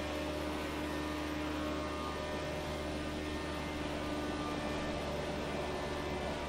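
A classic Indy race car engine in Project Cars 2 sends out a steady, loud jet-like whine and drone, constant throughout with no breaks, sounding like a continuous high-revving roar.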